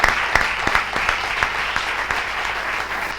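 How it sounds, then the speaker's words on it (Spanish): An audience at the presentation of the new municipal archive in La Unión applauds, a dense, steady burst of many hands clapping close by. "un fuerte aplauso"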